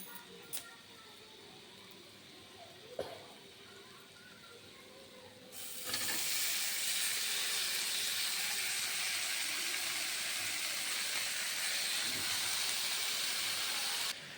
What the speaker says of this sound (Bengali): তো এবার আমি কড়াইতে শাকটা দিয়ে দেব